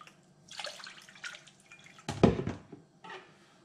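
Water splashes and trickles into a glass in short bursts, with a louder pour near the middle and a brief final trickle; close and fairly quiet, no talking.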